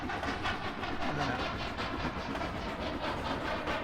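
Simulated train running in the railway game Trainz 2019, a steady rumbling roll with rhythmic clickety-clack of wheels over rail joints, continuous and moderately loud, with no voices.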